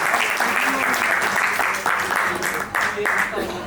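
Loud, dense applause from a gathered audience greets a guest at a 65th birthday celebration, sustained throughout with a brief dip partway, and faint talking mixed beneath the clapping.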